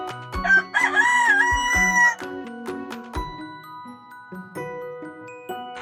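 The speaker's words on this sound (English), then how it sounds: "Rooster." A rooster crows loudly in a long, wavering cock-a-doodle-doo near the start, followed by quieter farmyard calls and background music tones.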